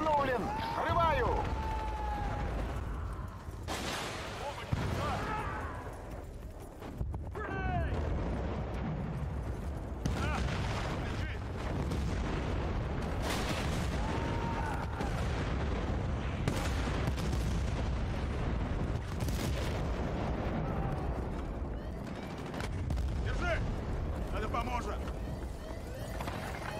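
A planted charge detonates in Battlefield: Bad Company on PS3, in Gold Rush mode on the Harvest Day map, giving several heavy booms among scattered gunfire while voices talk throughout.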